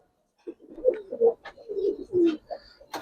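Close, soft cooing from Giribaz pigeons: a few throaty, rolling coos in quick succession against a silent background, with no voices.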